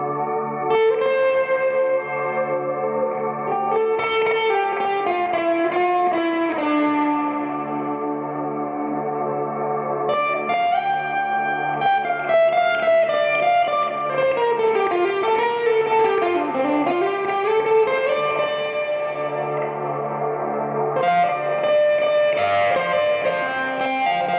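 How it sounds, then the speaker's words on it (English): Sustained guitar chords ringing with heavy reverb and effects, notes blending into a wash while a melody bends and glides over the held sound. "you can make the reverb just sustain, so I can play a chord"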